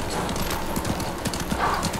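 Horse hooves in Ghost of Tsushima, a steady rapid clip-clop of galloping beats, close and continuous against a busy game background.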